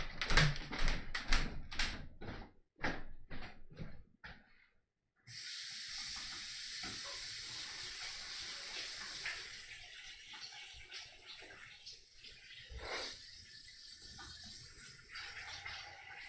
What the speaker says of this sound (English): I'm gonna wash my hands in a second.